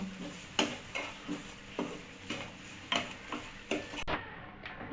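Semolina being stir-fried with nuts, coconut and raisins in a pan, a spatula scraping and tapping in a regular rhythm of about ten strokes over a soft background sizzle, close and fairly quiet.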